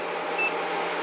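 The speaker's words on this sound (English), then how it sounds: "you do hear this beeping noise to let you know that it entered the protection mode" A single short, high electronic beep from an Array 3711A electronic load in protection mode sounds once over a constant cooling-fan hiss.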